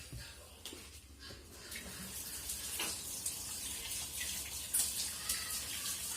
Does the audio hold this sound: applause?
no